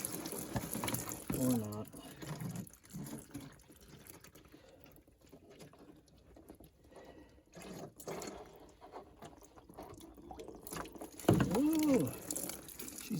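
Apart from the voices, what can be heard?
liquid draining and gurgling from Ford 8N tractor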